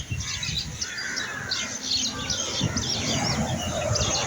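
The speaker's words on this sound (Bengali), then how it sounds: "অনেক পাখি আসে," Crowd of birds, crows among them, calling and chirping at a morning feeding spot where food is put out; dense overlapping chirps and caws fill the whole stretch at steady moderate loudness.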